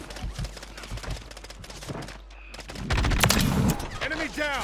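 Rapid bursts of video game gunfire in Rebirth, close and loud with several volleys and sharp shots, heavier firing toward the end, while players talk over it.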